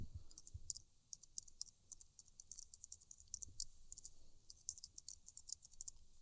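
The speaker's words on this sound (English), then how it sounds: "So I'm going to type in her email," Quick, crisp clicks of a computer keyboard as an email address is typed, an irregular patter of light keystrokes close up and otherwise quiet, with no talking.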